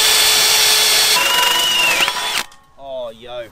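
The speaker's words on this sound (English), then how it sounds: "Oh, straight through like nothing." Power drill driving a bit through wood for a DIY skatepark build, a loud continuous whine for over two seconds that cuts off abruptly, followed by a brief voice.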